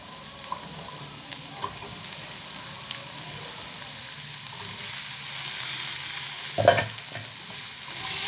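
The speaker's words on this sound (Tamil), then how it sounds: "இப்போ இது பச்சை பட்டாணி இதோட நான் சேர்த்துக்கிறேன்." Green peas stirred and sautéed in a pan: a soft steady sizzle with light scraping stir strokes, swelling louder toward the end as the mix is turned over.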